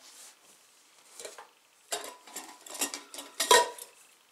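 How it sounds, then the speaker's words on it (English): Small metal camping micro cooker parts being handled close up: several light clinks and rattles of thin metal, sparse at first and then in quick clusters, with quiet gaps between. "There we are, tiny little cooker there."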